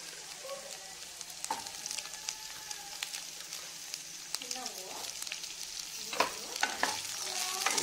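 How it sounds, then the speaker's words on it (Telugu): Green chillies frying in a pan for chicken donne biryani, giving a steady crackling sizzle with frequent spatula stirs and scrapes that grow busier toward the end. "ఇలా ఫ్రై చేసుకున్నాక ఇందులో మిరపకాయలు వేసుకోవాలి ఫ్రెండ్స్."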